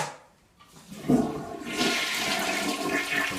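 A newly installed, freshly caulked toilet in a renovated bathroom is flushed close by: a click of the handle, then a loud rushing swirl of water that continues steadily as the tank refills.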